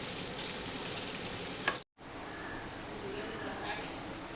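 Chicken frying in a pan, a steady broadband sizzle that runs throughout and cuts out briefly near the middle before resuming at the same level.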